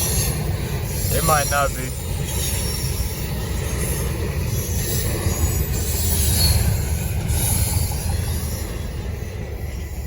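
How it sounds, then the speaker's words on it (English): Norfolk Southern freight train NS 241 rolls past close by in a steady loud rumble, with a brief high wheel squeal early on and someone speaking over the passing cars. "That's the end of NS 241. Wow, that's a nice size train."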